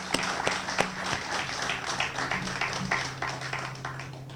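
Audience applause at a wastewater treatment plant facility dedication, a steady wash of many hands clapping with a few sharper individual claps, moderately loud, with a low hum underneath.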